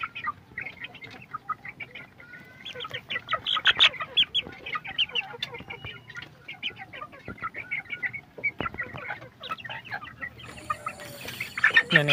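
Several young chickens cluck and chatter in short, scattered bursts, close and fairly soft, with overlapping calls and a louder flurry near the end.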